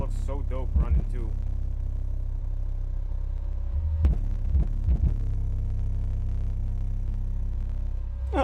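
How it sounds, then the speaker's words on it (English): A car subwoofer driven by an Audio Legion Max12D4 with Taramps HD3000 amps pounds deep, steady bass that rattles objects around a house, while a person talks briefly in between. "I can hear different things in my house rattling at different times depending on the bass"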